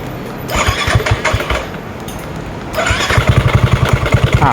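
An older Yamaha NMAX motor scooter cranks with a whirring starter, then catches and settles into a rough, pulsing idle, close and fairly loud.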